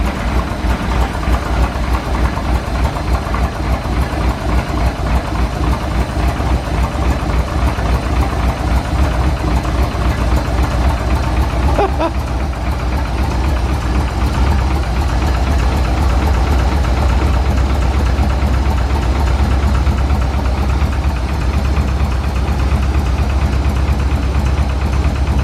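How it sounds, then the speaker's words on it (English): A steel race car built around 1956 idles steadily with a rapid, even ticking from its lifters riding over a loud, constant low rumble, close up and unbroken throughout. "Lifter tick or something."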